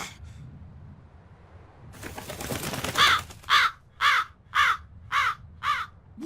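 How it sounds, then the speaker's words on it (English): A crow in the Tales of Berseria video game caws six times in a steady, evenly spaced series, loud and close, following a brief burst of flapping or rustling noise. "That crow just flew off with the coin!"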